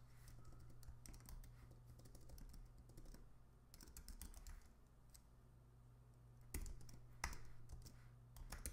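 Typing on a computer keyboard while coding a React component: quiet, fairly steady runs of close key clicks with a few sharper taps near the end.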